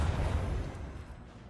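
Macro cannon salvo in the space combat of the video game Rogue Trader, a dense, sustained low rumble of heavy broadside fire that rolls on for the whole moment and slowly thins out.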